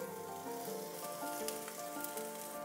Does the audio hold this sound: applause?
no